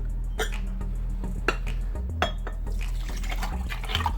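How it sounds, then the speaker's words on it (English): Sugar and milk being stirred together in a bowl for scones, with a spoon clinking and scraping against the bowl in irregular taps over soft liquid sloshing. "I'll be combining my sugar and my milk together. I'll be mixing them together."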